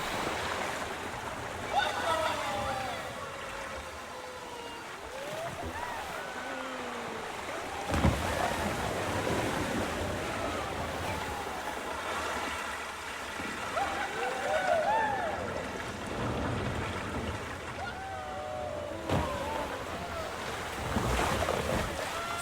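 A boat on a water ride in the Planet Coaster 2 video game rushes through water with steady splashing and wind-like whooshing, while a voice chatters excitedly over it.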